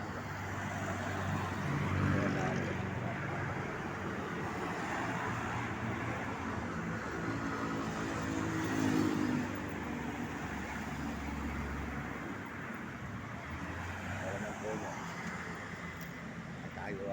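Highway traffic in San Fernando, Pampanga forms a constant low roadside rumble of passing cars and trucks, with swells as vehicles go by. It stays fairly faint throughout.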